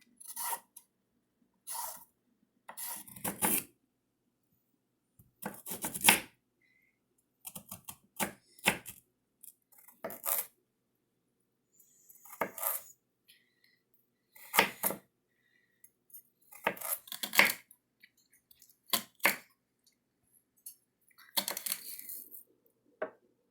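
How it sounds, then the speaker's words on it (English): Vegetables such as tomatoes and carrots being chopped with a knife on a board, heard as scattered sharp clicks and taps in irregular bursts with quiet pauses between, close and fairly soft, with no talk. "We are going to chop our vegetables up."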